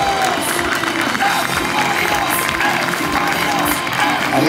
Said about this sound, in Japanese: 大きな拍手でよろしくお願いします